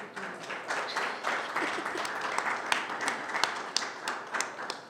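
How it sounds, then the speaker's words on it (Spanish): Audience applause at a UACM session, a steady wash of many hands clapping at moderate level with sharper individual claps standing out, no voices over it. "Un fuerte aplauso para Manuel Mujica."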